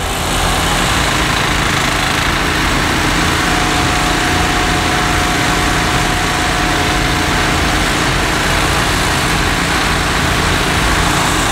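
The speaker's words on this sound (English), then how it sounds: "They still have the pumps going." Pumps running on a construction site for a roller coaster at a theme park, a loud, continuous engine drone that stays steady and unbroken throughout, with no voices.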